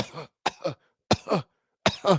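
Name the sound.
cough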